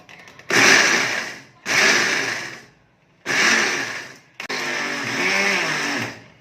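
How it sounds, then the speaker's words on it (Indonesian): An electric blender grinds dried chilies, whirring loudly in four bursts, stopping and restarting between each, with a rough grinding hum. "Ini nanti di blender kasar saja ya,"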